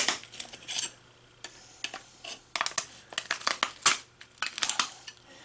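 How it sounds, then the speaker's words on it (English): Steel pieces being pulled with pliers from a cut pack of glass-hard, hardened steel, giving a rapid series of sharp metallic clicks, scrapes and crinkles, close and fairly quiet, with no talking. "These pliers won't grip this steel very well because the steel is glass hard right now."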